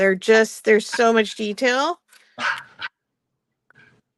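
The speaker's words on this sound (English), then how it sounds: "That is my dog who now wants out." A pet dog wanting to be let out gives a short whine and soft whimper under nearby talk, faint and brief after the speech ends.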